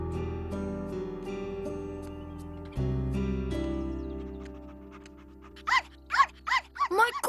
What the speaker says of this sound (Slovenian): Moj kuža!